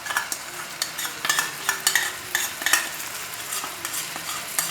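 Chicken pieces being stirred in a pan with a yogurt and spice mix, repeated close scraping strokes of a spoon over a soft sizzle, in an uneven rhythm.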